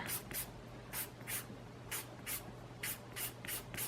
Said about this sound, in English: I'm going to take my emery board